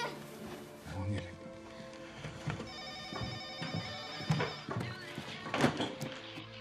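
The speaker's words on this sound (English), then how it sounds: "the phone's ringing" A household telephone rings through a busy domestic scene, its bell tones mixed with thuds, movement and voices in the background, moderately loud but partly masked.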